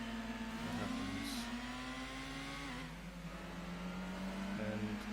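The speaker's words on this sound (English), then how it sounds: "And almost over revving it there" A Mazda MX-5 engine in Gran Turismo 2 revs high through gear changes during an MX-5 Trophy race, a steady droning whine rising and dipping between shifts, moderately loud with no talk.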